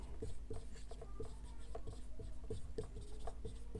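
Chalk or marker writing on a board during a Hindi alphabet lesson, a series of short scratchy strokes and taps in an uneven rhythm, close and fairly clear against a low room hum.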